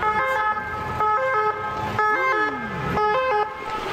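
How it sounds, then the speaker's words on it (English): An emergency vehicle siren passing on a street in Spain, a loud two-tone wail repeating about once a second with passing traffic noise beneath, with no talking. "Nice siren."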